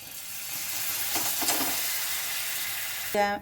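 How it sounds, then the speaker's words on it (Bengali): Vegetables are tipped into a hot pan of frying pav bhaji masala and stirred, producing a continuous close sizzle and hiss with a few stirring scrapes, and a brief voice at the very end. "এবারে আমি এই সবজিটা এতে ঢেলে দেব।"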